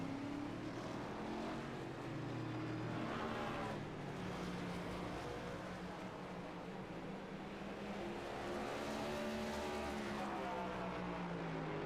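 Several race car engines drone and whine together in a sim racing game, rising and falling in pitch as a car loses control, loud and continuous with no voices.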